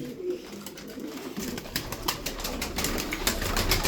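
Several pigeons coo together in a coop, a soft continuous murmur of calls with some rustling, heard close and steady throughout.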